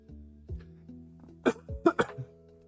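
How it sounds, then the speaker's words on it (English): A person coughs several times in a short burst, close and fairly loud, with a low hum underneath and a couple of softer throat sounds leading into the sharp coughs. "Pardon me if you heard that cough."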